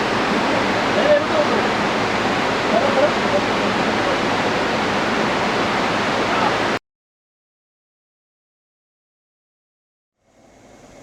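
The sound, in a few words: Jadh Ganga Himalayan river water flowing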